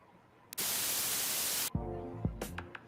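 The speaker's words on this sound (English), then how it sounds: "Starting to sound like one of those old internet dial-up connections there." Loud burst of white noise static that holds steady for about a second, then cuts off and gives way to layered tones and short blips.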